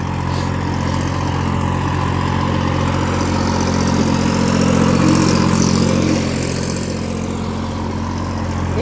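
A Massey Ferguson 9500 Smart diesel tractor engine idles and runs steadily close by, a loud continuous low rumble that holds throughout without voices.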